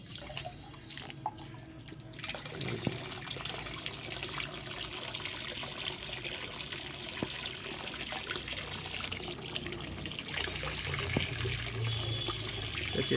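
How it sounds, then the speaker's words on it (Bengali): Water splashes and trickles steadily into a betta fish tank, a continuous close-up gurgling with occasional drips and knocks. "আমি কিন্তু এভাবে ডাইরেক্ট সাবমার্সেগুলো পানি দিই"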